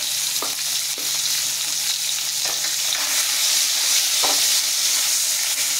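Fish frying in hot oil in a Bengali home kitchen, turned and stirred so the oil coats every side: a dense, steady close sizzle with a few soft utensil clicks and no talking.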